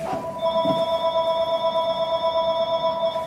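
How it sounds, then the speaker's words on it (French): A telephone ringing indoors with a steady, continuous electronic ring tone that holds throughout at a fairly loud level, with no talk over it. "Téléphone."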